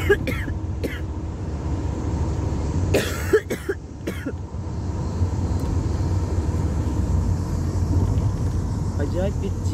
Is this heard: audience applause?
no